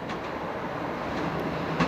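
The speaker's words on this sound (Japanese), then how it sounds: "2番線に区間快速竹豊行きが到着します。" A four-car JR Central rapid train rolls into platform 2 at Handa Station on the Taketoyo Line with a steady, broad rumble and faint rail noise, growing slightly louder toward the end.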